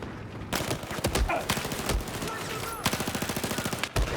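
Automatic weapon fire in the video game Battlefield rattles in rapid bursts and a sustained rhythmic string of shots, fairly close and dense, with no talking.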